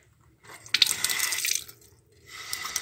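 A glass of water poured into a cooking pot holding a crab dish mixture, a brief splashing gush starting after a short pause, then a second softer pour near the end.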